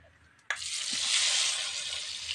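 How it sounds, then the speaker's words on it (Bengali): Marinated chicken dropped into hot oil for biryani, a sudden loud hiss that bursts in and settles into a sustained, steady sizzle. "এটা তেলের মধ্যে ছেড়ে দেবো।"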